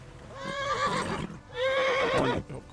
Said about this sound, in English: The horse doesn't like this.